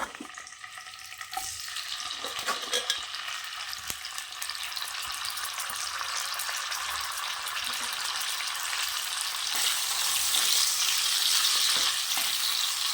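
Broccoli, peas and potato frying in hot oil in a pan, a steady, close sizzle with occasional stirring scrapes that grows a little louder toward the end.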